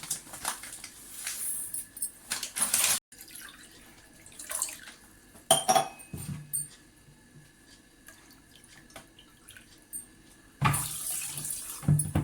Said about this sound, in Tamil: இந்த 2 கப் சுகருக்கு 1 கப்பு தண்ணி ஊற்றிக்கலாம்